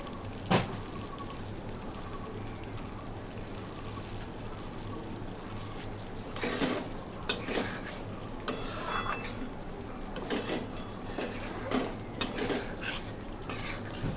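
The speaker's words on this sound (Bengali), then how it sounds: "তো মশলাটাও একটু নেড়ে চেড়ে একটু কষিয়ে নিলাম।" Spice masala fries gently over a low gas flame while a spoon stirs and scrapes the pan in irregular bursts, with soft sizzling and a steady hum underneath.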